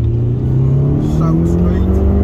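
A Mitsubishi Lancer Evolution V engine running loud and close, its pitch rising steadily as it revs.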